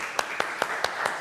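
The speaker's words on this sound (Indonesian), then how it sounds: "Ya, tepuk tangan." Five evenly spaced hand claps in a classroom after a student group's presentation, sharp and close over a steady hiss of room noise.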